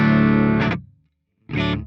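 Electric guitar through a KHDK Annihilator II pedal with its boost engaged: a bright, driven chord rings for about three quarters of a second, cuts to silence, then a second strummed chord starts, loud and close.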